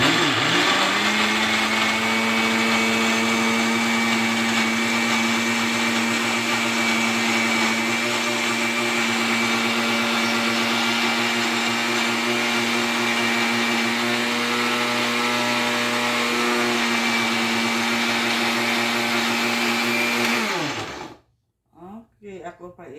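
A new 120-volt blender chops food with a loud, steady motor whine that runs continuously for about twenty seconds and then cuts off abruptly, leaving brief clatter and near silence.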